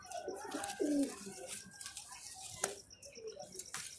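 A pigeon coos softly nearby, a low throaty call, among light rustling and faint scattered background noise.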